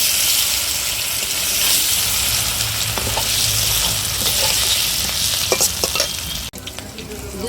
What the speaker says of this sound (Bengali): তেজপাতা, শুকনো লঙ্কা, জিরা দিয়া সম্বরা দিতাছি, সিদ্ধ করা আলুটা দিয়া দিতাছি।